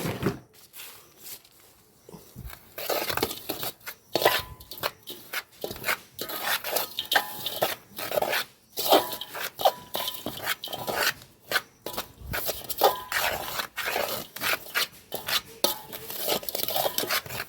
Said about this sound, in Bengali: এবারে এই উপকরণগুলো কিন্তু আমি ভালো করে মেশাবো।